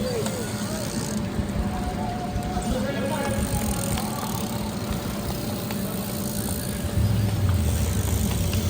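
A stream of Gran Fondo race cyclists passes close by, a continuous whirring and rattling of many bicycles with a motorcycle escort rumbling in, while onlookers cheer and talk over it.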